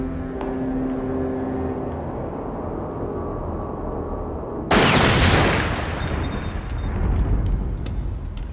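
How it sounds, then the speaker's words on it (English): Exploding-bullet gunfire in the 1994 action film T-Force, a sudden loud burst of rapid fire cutting in over a steady rumbling background and continuing as a dense, crackling barrage. "Exploding bullets."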